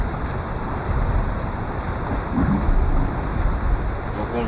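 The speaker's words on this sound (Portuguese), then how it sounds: "A tempestade arranha feito pedra." In Horizon Zero Dawn a thunderstorm with rain roars as a steady, dense hiss of rainfall, with a low rumble of thunder swelling in the middle.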